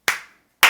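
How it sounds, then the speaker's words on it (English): Two sharp, loud claps from a subscriber's submitted drum set recording, each a bright burst with a short decaying tail, spaced about half a second apart and heard alone. "Why his claps are so loud."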